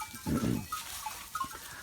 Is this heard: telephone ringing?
no